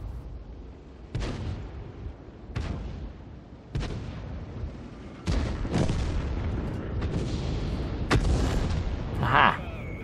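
Tank cannon shots in the online game World of Tanks, several heavy booming blasts spaced a second or two apart, each with a rumbling decay over steady engine and battle noise, no talking.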